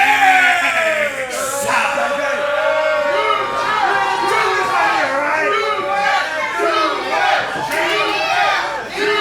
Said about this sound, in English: Crowd chanting, new champs, new champs, new champs.